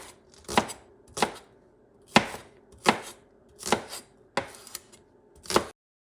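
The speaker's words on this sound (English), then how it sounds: "So what you're going to do, you're going to chop them, okay?" Green onions chopped with a knife on a cutting board for stir-fried tomatoes and scrambled eggs: seven crisp, evenly spaced chops, close and clear, with quiet pauses between and no voices.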